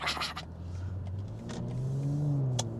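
A BMW G14 840i with a catback exhaust on the highway gives a steady, moderately loud engine and exhaust drone that rises slightly toward the end, with no talk.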